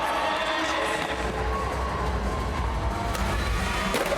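A crowd at a 2012 street league skateboarding final in Glendale, Arizona cheers and shouts continuously, a broad roar of many voices that never lets up.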